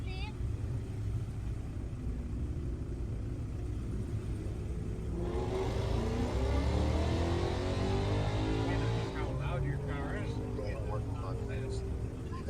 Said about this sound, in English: I'm running up the engine now.